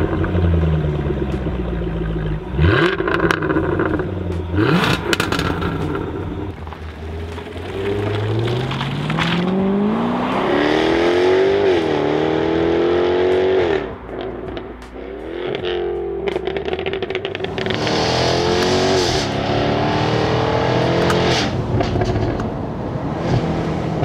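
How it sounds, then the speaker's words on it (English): Jaguar F-Type V8 convertible on the move, the engine note climbing and dropping through gears with sharp crackles and pops, loud and close over road and wind noise. "just how good this V8 really sounds."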